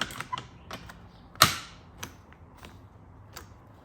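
Seat height adjuster on a Holden VK Commodore being worked by hand, giving a series of sharp mechanical clicks and ratchet snaps, one loud crack among several fainter ones, close up with no talking.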